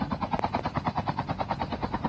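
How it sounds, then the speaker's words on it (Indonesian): A helicopter in a shooter video game makes a rapid, rhythmic rotor chop of evenly spaced pulses that holds steady at a moderate level for a couple of seconds, with no speech. "Wow, ditembak helikopter."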